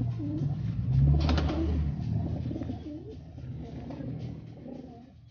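A racing pigeon, an old Taiwan-bloodline bird ringed in 2013, coos close by in low, throaty rolling calls, repeated several times with faint background noise.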